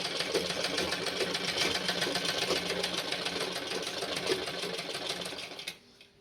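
A sewing machine runs steadily, stitching the lining of a boat-neck blouse in a fast, even mechanical rattle, close and loud, before stopping abruptly near the end.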